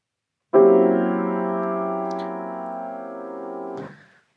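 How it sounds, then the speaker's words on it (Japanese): A Petrushka chord, two clashing triads stacked into one dissonant piano sound, struck once and held for about three seconds as a steady, rich tone before being released. "ペトルーシカ和音を実際に弾いてみましょう。"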